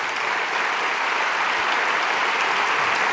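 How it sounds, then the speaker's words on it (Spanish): A large audience applauds Ángel Gabilondo at a Spanish PSOE political rally, a dense, steady roar of clapping that holds loud and even throughout. "Un aplauso para Ángel."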